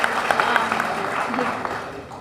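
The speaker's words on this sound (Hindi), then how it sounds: "अब ताली ना बजाएं" Applause from an audience at a Hindi public speech on cutting wedding and funeral-feast spending, a dense steady patter of clapping mixed with a speaking voice throughout, fairly loud and close.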